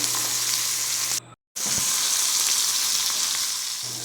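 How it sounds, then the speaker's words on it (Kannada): Mustard seeds, pepper, cumin and crushed Gandhari green chillies sizzling in hot oil as a tempering for snake gourd kootu, a dense, steady frying hiss up close that cuts out briefly before resuming. "ಸಾಸಿವೆ ಚಿಟಪಟ ಸದ್ದು ಸ್ಟಾರ್ಟ್ ಆದಾಗ ಮೆಣಸು, ಜೀರಿಗೆ ಮತ್ತು ಹಸಿಮೆಣಸು ಹಾಕ್ತಿದ್ರೆ ಹಸಿಮೆಣಸು."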